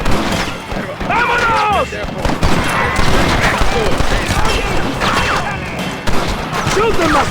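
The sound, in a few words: gunfire in the video game Red Dead Redemption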